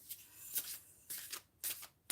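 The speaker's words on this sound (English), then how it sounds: "So these cards are so big, I have to shuffle that way." Large oracle cards being shuffled by hand, heard as three or four short papery riffling bursts separated by brief pauses, fairly quiet and close with no talking.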